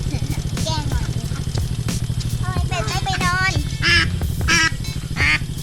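Ducks quack in short bursts around a farm pen they have wandered out of, mixed with chickens and other yard noise, while people talk nearby.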